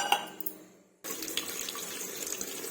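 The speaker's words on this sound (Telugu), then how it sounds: "ఇప్పుడైతే రెండు మూడు సార్లు వాష్ చేసుకుందాం రైస్ని" Rice being washed in water: a short clink and swish of grains in a vessel, a moment of quiet, then a steady close-up rush of running tap water.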